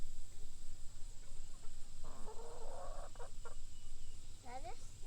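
Six-month-old chickens and a rooster cluck in a short burst mid-clip, with a few later calls, close by over steady farmyard background hum; no speech.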